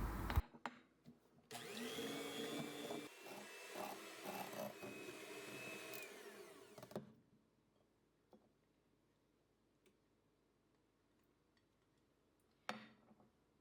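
An electric hand mixer whirs steadily through dough for about five seconds, then cuts off. Faint clinks follow, and there is a brief knock near the end.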